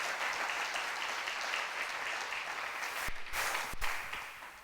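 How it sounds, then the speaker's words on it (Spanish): A church congregation applauding, a soft steady patter of many hands clapping at a distance, fairly faint and continuous with a few brief gaps. "Vamos a dar una ofrenda de palmas."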